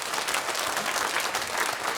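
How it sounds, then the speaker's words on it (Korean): Applause from a church congregation at a Sunday worship service, steady dense clapping filling the room for the whole stretch, with no voices over it. "함께 박수로 하나님께 영광을 돌리도록 하겠습니다."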